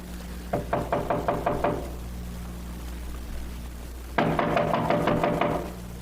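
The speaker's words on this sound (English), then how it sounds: "Wait, I'll knock." Two bursts of firm knuckle raps on a door in a 1948 Philo Vance radio drama, each a quick run of about seven knocks, the second set louder and closer, with no talking.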